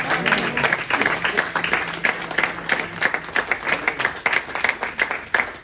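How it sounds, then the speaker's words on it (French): A church congregation applauds loudly, with steady rhythmic clapping from many hands throughout, close and continuous with no break. "Acclamons très fort."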